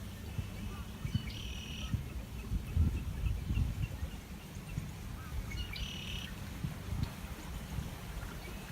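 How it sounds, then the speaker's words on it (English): Two short chirps sound a few seconds apart from a blackbird nearby, over a low rumble of running canal water and outdoor ambience. "the chirping blackbirds"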